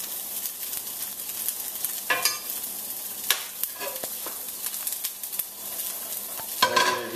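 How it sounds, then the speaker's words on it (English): Butter sizzling in a hot pan before gluten-free trout is seared, a steady soft crackle with a few sharper spattering bursts and utensil scrapes near the end. "We're going to add some butter so we get a nice sear."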